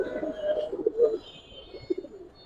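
Giribaz and Lalpatti pigeons coo softly in low, throaty murmurs, a few short warbling calls close by over faint background noise.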